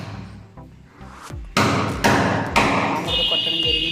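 A hammer drives a rock bolt into a wall during a water heater geyser installation: three heavy, close thuds land about half a second apart over low background noise, after some softer taps.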